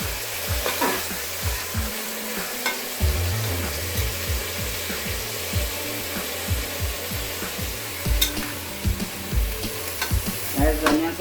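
Onions frying on high heat in a kadai for mutton kadai dum, a steady loud sizzle with repeated rhythmic stirring scrapes throughout, no voices.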